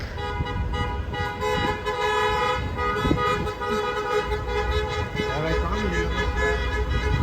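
Car horns blare in a dense traffic jam, long overlapping honks sounding almost continuously over the low rumble of idling engines.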